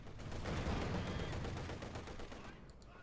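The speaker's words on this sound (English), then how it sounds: "Nice ambush hit by the SIS-3 Divisional Field Gun on the Flak Panzer, causing some nasty structural damage." A ZiS-3 divisional field gun fires from ambush at a Flak Panzer in the Company of Heroes 2 battle, a loud, dense barrage of booming shots and gunfire rolling continuously for a few seconds before easing slightly.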